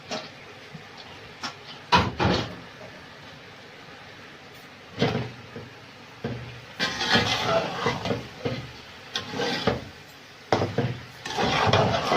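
Rice being stirred into bubbling sugar syrup in a pot for mutanjan sweet rice, irregular bursts of thick scraping and clunking from a spoon against the pot, close up, with quiet stretches between.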